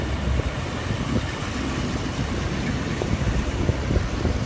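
A passenger train, Thai service 351 Thonburi–Ratchaburi, pulls out of Phong Ma Duea station at night in rain: a steady, low rumble with continuous rail noise and a faint high whine throughout, no voices.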